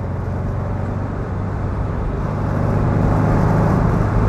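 A 1963 Porsche 356 C Cabriolet drives along with a steady engine drone and road noise. The drone swells slightly toward the end, and no one speaks.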